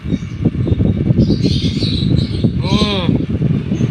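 Birds chirp and coo in the background while a person talks close and steady over them throughout.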